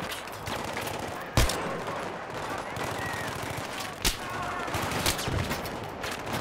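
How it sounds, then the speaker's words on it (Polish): Sharp sniper rifle shots crack out at irregular intervals over a dense, noisy battle din in the video game Battlefield 3, with a few distinct louder reports standing out. "całkiem nieźle naparzam z tej snajperki."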